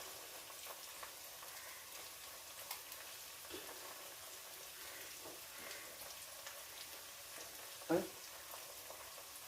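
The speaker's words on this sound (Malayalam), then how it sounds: "കൂട്ടത്തിൽ നമ്മുടെ കൊഞ്ചിനെയും കൂടെ അങ്ങ് ഇട്ട് കൊടുക്കാം" Prawns sizzle and crackle in a hot cooking pan for a prawn theeyal curry, a soft, steady frying hiss with a sharper pop near the end.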